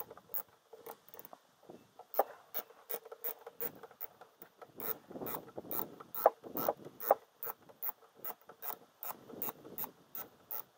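A socket ratchet turns out a bolt on a Kohler Command CV22 small engine, making a long series of quick, close clicking pawl strokes in irregular bursts, fairly quiet, with no talking.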